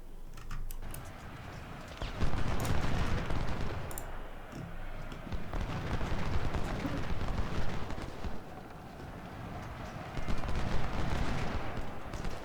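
Cannon and rifle fire from the Civil War strategy game Ultimate General: Civil War, a Stones River battle, comes as crackling volleys and dull booms in bursts with short lulls, fairly faint overall.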